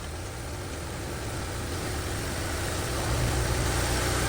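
A Chevy Equinox engine idles steadily with a low, even rumble and no speech, swelling slightly louder for the last second.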